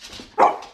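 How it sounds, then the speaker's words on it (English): One sharp, close bark from a dog waiting for treats at home, preceded by soft rustling and followed by quiet. "So these are from Petco and the dogs love these."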